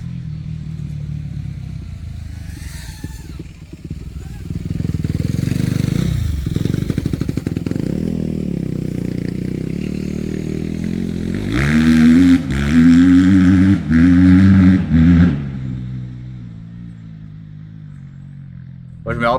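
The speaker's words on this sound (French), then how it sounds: "On va suivre la moto." A motorcycle rides by, its engine rumbling louder and then revving hard with a rising, stuttering note that peaks near the end before it fades away, with faint background noise.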